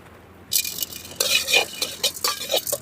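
Leaves and peppercorns being dry-roasted in a pan for a country chicken rasam, with a scraping stir and light crackle starting after a short quiet moment, coming in uneven bursts close by.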